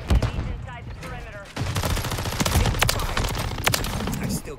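Gunfire in Modern Warfare 3 comes in rapid bursts and sharp cracks mixed with other game effects, loud and close, with a voice talking at times.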